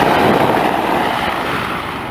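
Large military-style helicopters pass overhead as a loud, continuous rotor roar that washes over the whole stretch and fades slightly toward the end.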